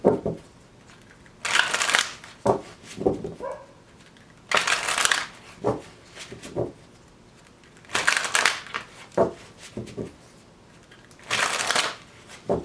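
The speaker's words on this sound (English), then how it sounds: "One more shuffle." Tarot cards shuffled by hand in repeated bursts, crisp riffling flutters lasting about a second each, separated by softer taps and pauses, close and clear with no talking.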